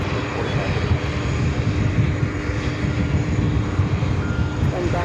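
Boeing 777-300 airliner at JFK Airport, a steady loud jet engine roar held continuously without letup, broad and rumbling, with faint radio chatter mixed in.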